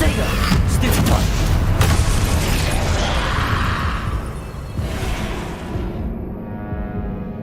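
Spell blasts in the video game Hogwarts Legacy: a dense run of booming bursts and whooshes, loud and continuous, with pops scattered through and a voice present, before the clamor thins and the high end drops away.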